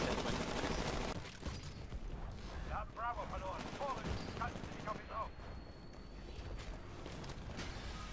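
Gunfire in the video game Titanfall comes through in a dense, continuous barrage of shots and mechanical clatter under a mid-level game soundscape, with faint in-game voice-like sounds drifting through.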